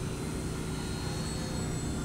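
An E-Flite EC-1500 twin-engine electric RC airplane cruising at quarter throttle, giving a steady, continuous motor and propeller drone with a thin high whine, heard alone without talk.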